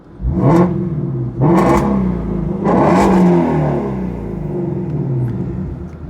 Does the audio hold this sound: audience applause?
no